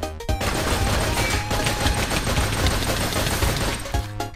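Rapid, continuous gunshots in the Minecraft video game, loud and dense machine-gun-style fire sustained for several seconds, starting and stopping abruptly with no voices over it.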